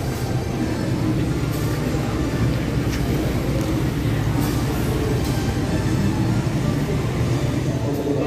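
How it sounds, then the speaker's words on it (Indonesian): Heavy low rumble and steady rolling noise from inside the Majapahit economy passenger train as it runs into Madiun station, continuous and loud without a break. "Akhirnya perjalanan kereta api Majapahit tiba di tujuanku stasiun Madiun"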